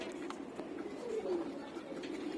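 Caged resting pigeons coo softly in a quiet room, with one low, rolling call in the middle over faint background hiss.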